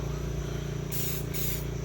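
A spray paint can hisses touch-up paint onto a van in two short bursts over a low, steady background hum.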